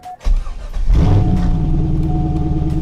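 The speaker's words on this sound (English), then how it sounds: "Now we're gonna jump in the car while it's still in the air, start it up, and make sure there are no leaks." A Chevrolet C5 Corvette, raised in the air after an oil change, cranks briefly and fires up, then settles into a loud, steady, rumbling idle.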